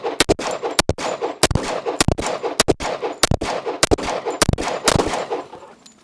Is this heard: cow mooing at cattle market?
no